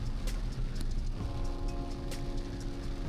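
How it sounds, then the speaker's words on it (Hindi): Heavy rain pours steadily just after leaving an ATM, a dense continuous wash of noise with scattered sharp patters and drips, loud and close throughout with no talk. "बारिश देखो कितनी तेज हो रही है।"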